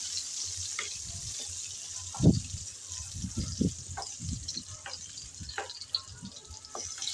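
Pointed gourd (potol) pieces fry in hot oil with a soft, steady sizzle, broken by occasional pops and stirring clatter.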